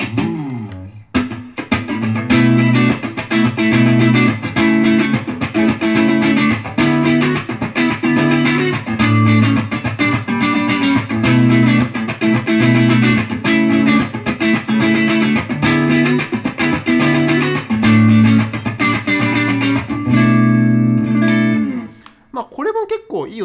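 Electric guitar through a Blackstar amp with a clean tone and no effects engaged, strummed chords ringing steadily for about twenty seconds, then fading out near the end.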